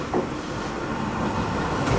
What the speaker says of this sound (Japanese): 8番乗り場に列車が参ります。